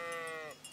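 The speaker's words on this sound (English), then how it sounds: "Let's go look at the sheep." A single short sheep bleat from the Kingdom Come Deliverance video game, a wavering nasal cry that fades within a second against a quiet background.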